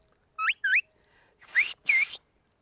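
Someone learning sheepdog commands whistles with the mouth rather than a whistle, giving two short rising chirps and then two longer swooping notes, clear and close in a quiet outdoor setting.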